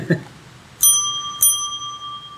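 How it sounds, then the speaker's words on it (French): Small handheld bells rung one after another by quiz contestants testing them, two bright metallic dings whose tones ring on and decay slowly, after a brief sound at the start. "vous avez chacun une magnifique clochette à bisous. Veuillez les tester, s'il vous plaît."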